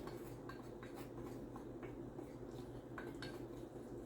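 A spoon or whisk clinks and scrapes against a bowl while mixing blackberry key-lime pound cake batter, a quick irregular series of close taps with no talking.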